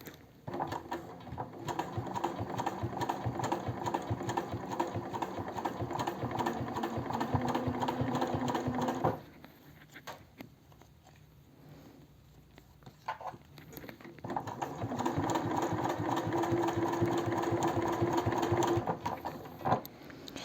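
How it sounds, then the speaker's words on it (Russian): A sewing machine runs slowly, topstitching an eco-leather cosmetic bag, a close steady needle chatter that stops briefly midway for a few quiet seconds, then resumes for another long run. "на медленном ходу, поправляя снизу обтачку, прокладываете отделочную строчку."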